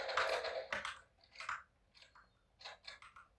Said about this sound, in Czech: Na PlayStation mám připojený klávesnice z myši